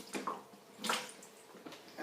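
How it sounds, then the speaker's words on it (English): Water from a tap runs in several short splashing bursts as a multimeter probe is rinsed during water testing, fairly quiet and close, with no talking. "I'm going to rinse my multimeter at least 4 times."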